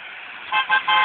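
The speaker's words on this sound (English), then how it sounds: "That's 3 honks for UPS." A UPS truck horn sounds in three short honks close by, the first blending into the last two, with no voices.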